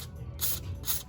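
Lubricant sprays from an aerosol can onto the bolts of a Nissan 350Z during a CV axle and wheel job, in two short hissing bursts separated by a brief pause, close and fairly loud.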